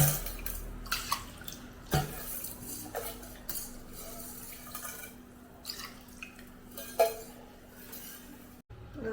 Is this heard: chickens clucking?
no